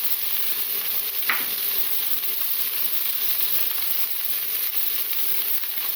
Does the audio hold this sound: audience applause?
no